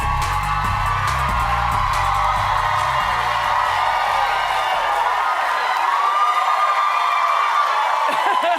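A studio audience at a daytime talk show cheers and whoops loudly and continuously, with a low musical bed underneath during the first half.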